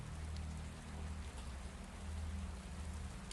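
Continuous rainfall patters softly and evenly, a gentle hiss of drops on surfaces with a low rumbling undertone, quiet and steady with no voices.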